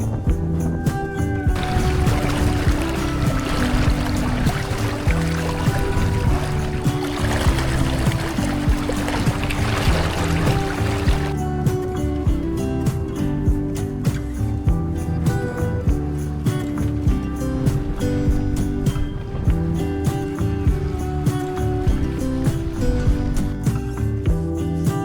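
Beneteau First 235 sailboat beating upwind: a steady, loud rush and slosh of water against the hull runs throughout, with no talk.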